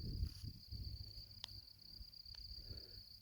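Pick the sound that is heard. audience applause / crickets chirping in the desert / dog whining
crickets chirping in the desert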